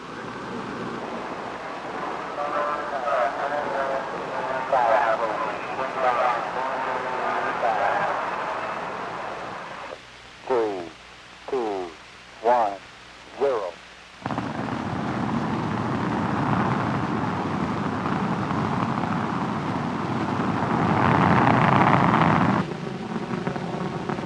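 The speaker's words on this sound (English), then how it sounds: "Another Saturn was launched on September 18th, completing the Saturn I Apollo program for" A Saturn I rocket launch for the Apollo program in 1964 gives a sustained, wind-like roar, broken midway by a short run of pulsed tones before the rumble returns.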